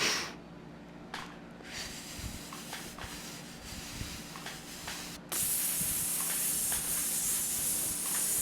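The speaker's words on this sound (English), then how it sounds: "Inhale, inhale." Forceful, hissing breaths during a breathing exercise, several sharp air rushes through the mouth or nose, close and fairly loud, the last one drawn out and sustained.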